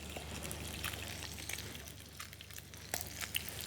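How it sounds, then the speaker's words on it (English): Food sizzles steadily in a hot pan, a soft crackling hiss with scattered pops and small spits, close up. "But first I get that initial little zen-like sizzle."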